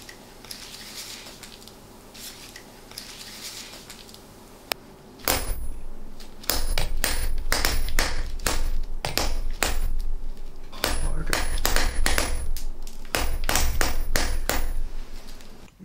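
Sharp, loud metallic hammer blows striking a screw against a hardened steel bar from a Japanese sword test, quiet at first, then a dense run of ringing impacts close to the mic.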